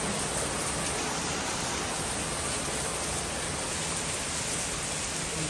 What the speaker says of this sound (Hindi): ये देखिए बारिश हो रही है,